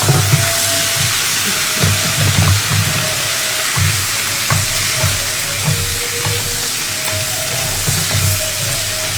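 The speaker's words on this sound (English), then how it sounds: "the heat is very slow, like you could see the sizzling with very low steam" Black-eyed peas sizzle gently in a pan over low heat, giving a steady broadband hiss with soft crackles and a low rumble underneath, continuous and close throughout.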